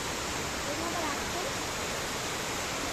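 The Guintubdan waterfall in Negros sends up a steady, loud broadband rush of falling water that fills the whole stretch without a break. A faint voice can be heard underneath.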